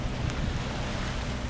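Boat motoring out through ocean chop on a morning passage from Anacortes toward Ketchikan, heard as a steady broadband rush of wind and water with low engine rumble, continuous and fairly loud throughout.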